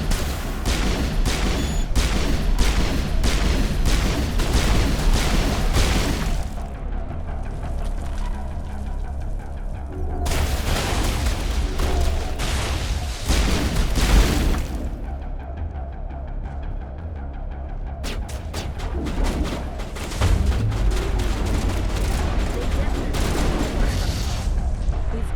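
Shotgun blasts and gunfire in the sci-fi shooter Mass Effect Legendary Edition, loud repeated bursts in clustered volleys separated by short lulls, with a voice speaking briefly between them.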